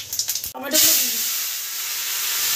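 Tomatoes hit hot oil after a few quick clatters, and a loud, sustained frying hiss erupts and holds steady to the end. A voice speaks briefly at the start.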